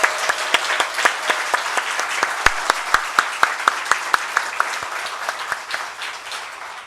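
A large church congregation claps in a steady, regular rhythm for the teenagers, each beat sharp and evenly spaced, the applause loud and continuing alone before tapering slightly at the end.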